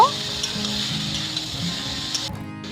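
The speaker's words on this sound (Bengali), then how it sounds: "এবার নেড়ে সব কিছু খুব ভালো করে মিশিয়ে নিয়ে তিন থেকে চার মিনিটের মতো জাল করে নেব" Watermelon rind frying with turmeric in a pan gives a steady, close sizzle, with a few faint stirring scrapes and no talking.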